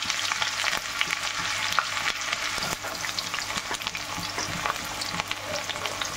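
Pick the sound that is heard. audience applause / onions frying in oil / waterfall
onions frying in oil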